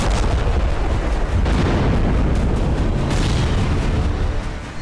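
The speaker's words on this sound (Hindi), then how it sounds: "बेहिसाब मिसाइल और आत्मघाती ड्रोन यूक्रेन की सीमा में दाखिल होते रहे और अलग अलग" Russian missile and kamikaze drone strikes exploding across Ukraine, a loud, dense roar of booming blasts that stays heavy and sustained for a few seconds with no speech.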